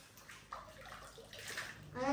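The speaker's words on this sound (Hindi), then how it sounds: "अली अब डुबकियां लगाओ" Water splashes and sloshes in a swimming pool as someone dunks, coming in faint, uneven bursts with some voices mixed in.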